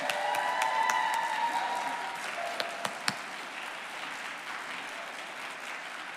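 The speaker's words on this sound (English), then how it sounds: "Shall we cheer for all of our folks?" Audience at a Texas justice ministry annual gathering cheering and applauding together, a steady wash of clapping with a few louder claps standing out, fading gradually toward the end.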